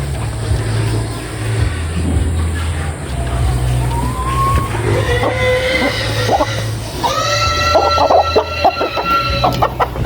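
Rhode Island Red chickens cluck and call nearby in a farmyard, with a low engine hum running underneath and a rooster-like call rising toward the end.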